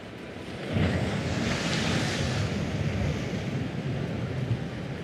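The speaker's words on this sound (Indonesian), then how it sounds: "View-nya sih langsung di tepi pantai nih, tapi ombaknya sih gede banget." Big ocean waves surge and crash on the beach at the seafront of Tapaktuan on the Aceh coast, a steady loud roar of surf mixed with wind buffeting the microphone, continuous throughout with no talking.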